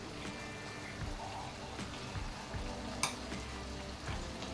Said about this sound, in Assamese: গোটেইখিনি ভালদৰে লৰাই দিছোঁ